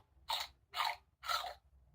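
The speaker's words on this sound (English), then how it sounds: "And our toast is too crunchy" Crunchy toast is bitten and chewed in three distinct, crisp crunches spaced evenly, close and clear with no talk, like a cartoon sound effect.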